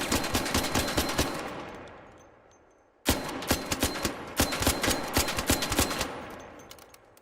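Rapid automatic gunfire in Destiny Trials, two sustained bursts of evenly spaced shots separated by a brief lull, loud and close with a fading tail after the first burst.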